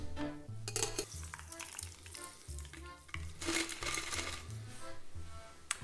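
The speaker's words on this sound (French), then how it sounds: "On shake avec de la glace." A cocktail shaker holding vodka and ice is shaken hard, giving a quick, steady run of rattling, clattering ice knocks at low volume.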